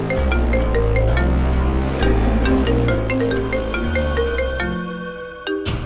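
A melodic phone ringtone plays loudly and steadily, its tuneful notes repeating over several seconds before cutting off near the end.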